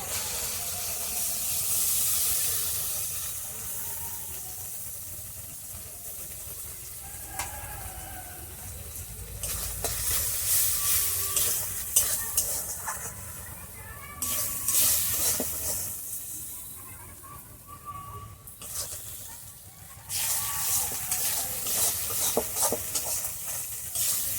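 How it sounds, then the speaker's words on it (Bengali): Sesame paste frying and being stirred in a pan for a Bengali village-style snakehead fish curry in milk, a steady hissing sizzle with louder surges of spitting and scraping, close by and without talk. "এবার আমি তিল বাটাটা দিয়ে দিচ্ছি।"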